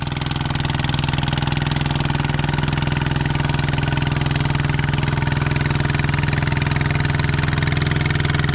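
An engine working a rice paddy field for transplanted rice runs loud and close with a steady, throbbing idle-like drone and knocking clatter throughout, no talk.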